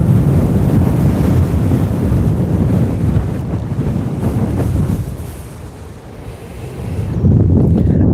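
Loud, rumbling wind buffets the microphone while riding a Onewheel against the wind in Aurora, Colorado, a continuous low roar that eases briefly near the end before surging back, with no talking.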